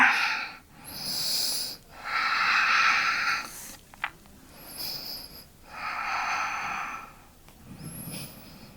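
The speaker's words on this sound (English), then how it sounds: "Breathing, breathing." Heavy, audible breaths in and out during a yoga hip and inner-thigh stretch, about four slow breathy cycles with wheezy, snorting exhales and short pauses between them, close to the mic.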